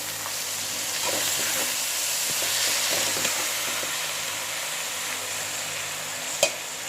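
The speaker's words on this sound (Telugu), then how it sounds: "మొత్తం రొయ్యలు గోంగూర కలిసేటట్టు తిప్పేసాను" A spoon works prawns and gongura leaves around a hot pan in a steady sizzle, with soft scraping strokes, scattered clicks and one sharp clink near the end.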